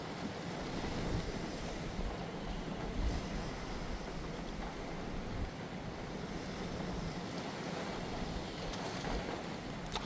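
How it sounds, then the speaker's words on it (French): Storm swell waves from Storm Jana pound the rocky shore at Cap Couronne near Martigues, a loud, continuous roar of surf mixed with gusting wind buffeting the microphone. "Et ça c'est les résidus de la houle hein, qui viennent se fracasser hein, tout simplement."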